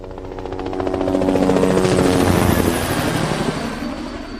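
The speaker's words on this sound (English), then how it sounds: "Helicopters now." A helicopter's rotor thumps loudly overhead a building, its beating roar swelling to a peak midway and then easing slightly, with no voices.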